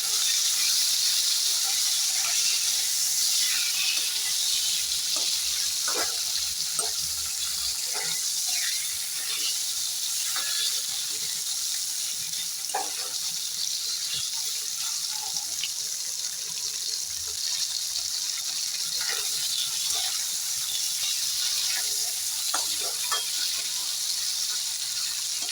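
Shrimp coated in salt and turmeric frying in oil already used for pointed gourd, making a constant hissing sizzle with faint scattered pops for the whole stretch.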